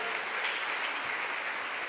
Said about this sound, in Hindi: छोटू के लिए ताली हो जाए